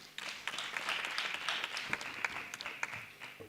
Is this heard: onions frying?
no